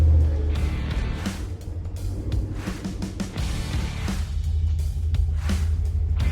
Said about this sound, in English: It's really amazing to see it drive out under its own power and as a complete vehicle.